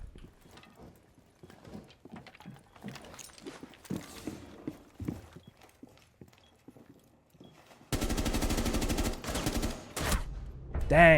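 Gunfire in Rainbow Six Siege during a tense one-on-one round: quiet mechanical clicks and footsteps give way to a sudden loud sustained burst of rapid shots late on, with faint talk early.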